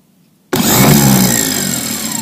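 Car starter motor fitted with a reconditioned solenoid, tested with cables connected: after brief silence it kicks in abruptly and whirs loudly and steadily for the rest of the clip.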